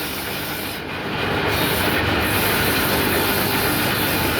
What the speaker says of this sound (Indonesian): Kalau untuk mesin potong lidi, contohnya seperti ini guys